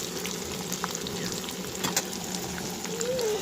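Meat sizzling and frying in mustard oil in a pan, a steady close crackle with occasional louder spits and stirring, no talking.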